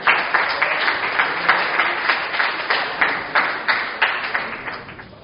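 Audience applause at a student team challenge presentation event, a steady stream of many hands clapping in a slightly pulsing rhythm, moderately loud and close, fading gently at the end with no talk over it.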